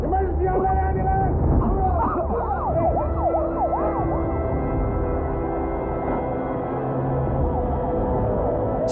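Ambulance siren in the 1995 film Se7en, a loud wailing yelp that sweeps up and down amid traffic rumble and shouting voices, fading slightly toward the end.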